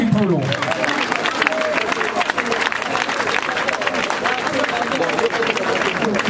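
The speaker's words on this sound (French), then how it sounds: "on peut applaudir très très fort pour Naomi Kipolo." Crowd applauds loudly for the artist Naomi Kipulu at a farewell tribute. Dense, continuous clapping and crowd noise run throughout, with a voice speaking over the applause.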